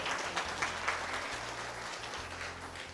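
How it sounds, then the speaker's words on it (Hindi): Congregation clapping in thanks during a Hindi church sermon, a steady wash of many hands filling the space throughout, with some low hum underneath. "तालियां बजा के प्रभु का धन्यवाद कीजिए।"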